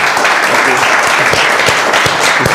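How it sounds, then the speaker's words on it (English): A big audience applauds at a leadership talk in dense, continuous, loud clapping that fills the room for the whole stretch without letting up. "How about we give them a big round of applause?"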